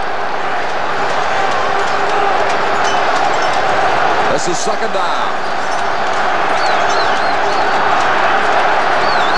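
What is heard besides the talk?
stadium crowd noise at football game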